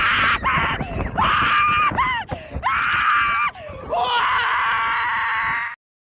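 A woman screams on a live stream, long loud shrill wails broken by brief gasps and whimpers, several drawn-out cries in a row close to the mic, then sudden silence at the end.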